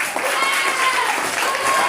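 Audience applause for the runner-up team at a school competition final, a steady crowded patter of clapping filling the room throughout.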